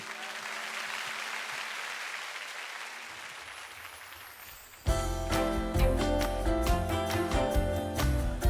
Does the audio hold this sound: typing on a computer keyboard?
no